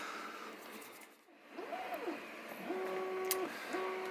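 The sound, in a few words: 3D printer running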